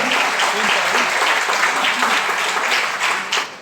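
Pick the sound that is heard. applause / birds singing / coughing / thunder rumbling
applause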